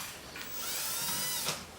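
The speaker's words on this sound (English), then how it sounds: "when I'm drilling each center hole" A power drill runs briefly overhead, drilling a center hole in a ceiling for mounting a flat panel LED light. The motor gives a close, moderately loud whine that swells and then eases over under two seconds, with no speech.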